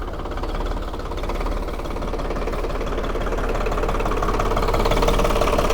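A heavy New Holland tractor diesel engine runs steadily nearby, a continuous low rumble with a fast, even knocking pulse that builds slightly in loudness and has no voices over it.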